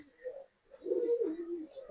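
A pigeon coos close by, a short, soft low call followed by a longer, throaty rolling coo, with no talking.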